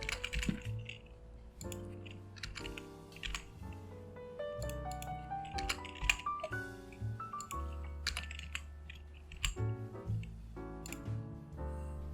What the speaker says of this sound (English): Let me just type this all in.